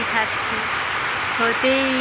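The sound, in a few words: heavy rain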